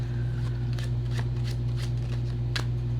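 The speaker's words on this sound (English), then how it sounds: "Here, I need to shuffle." Tarot cards being shuffled by hand during a card reading, a run of soft, evenly spaced riffling flicks close to the microphone over a steady low electrical hum, with no talk.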